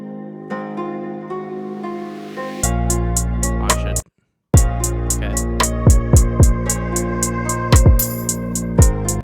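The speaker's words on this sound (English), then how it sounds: "We got the original beat here, which sounds like this." The original beat for a song plays as a full mix: steady kick hits and rhythmic percussion over sustained guitars and tones, with a brief drop to silence midway before the groove returns, loud and clear.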